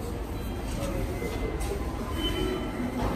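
Steady low rumble and hiss from inside a moving commuter train carries on without a break, with no clear voices over the noise.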